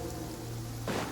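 Steady rain pours down in a video game, a dense broadband hiss of falling water that swells louder near the end, with no voices over it.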